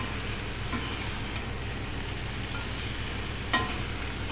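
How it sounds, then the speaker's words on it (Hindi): Cluster beans (gwar phali) fry in a pan with salt over a medium gas flame, giving a steady, soft sizzle with faint stirring and one brief clink near the end. "हम इनको दो तीन मिनट फ्राई करेंगे।"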